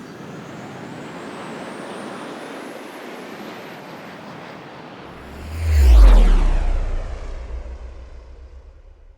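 An airplane taking off: a steady broad rumble that swells to a loud, close roar near the middle of the clip, then slowly fades away as the aircraft passes.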